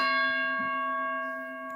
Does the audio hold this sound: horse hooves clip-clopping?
no